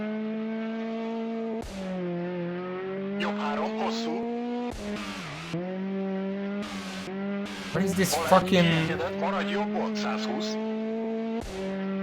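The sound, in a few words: rally car engine in a video game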